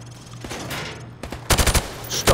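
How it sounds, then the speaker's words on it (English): Rifle fire from the hip at range targets in Call of Duty Modern Warfare Remastered: a loud, rapid burst of several close shots follows a quieter stretch of game ambience. "Now, shoot at the targets while firing from the hip."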